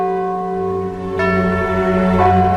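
A church bell rings as a sound effect for a radio segment on the old saying "saved by the bell". Sustained, steady metallic tones fill the clip, with a second stroke about halfway through and no talking.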